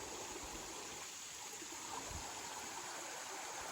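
Steady broadband rush of Salmon Creek flowing past a campsite along the North Country Trail, a continuous close wash of moving water with no voices.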